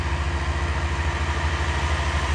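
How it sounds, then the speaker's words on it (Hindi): Tractors of several makes, including YTO, Massey, Belarus and Fiat, run on a farm near Dipalpur, giving a steady, loud, low diesel drone with an even pulsing throb and no voices. "हर कंपनी के ट्रैक्टर चल रहे हैं"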